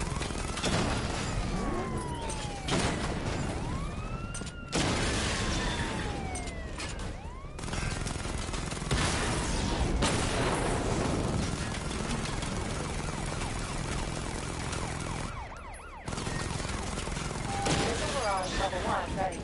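Weapon fire in Batman: Arkham Knight as targets are destroyed, repeated bursts of shots and blasts with sweeping siren-like tones and mechanical noise, continuous and loud, with a voice speaking at times.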